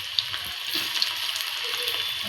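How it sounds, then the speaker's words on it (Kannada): Evening snacks fry in hot oil, a close, steady sizzle and crackle with small pops throughout and no talking. "ಕಾದಿದೆ ಎಣ್ಣೆ, ಇವಾಗ ಹಾಕ್ಕೊಂಡು ಫ್ರೈ ಮಾಡ್ಕೋಬೇಕು."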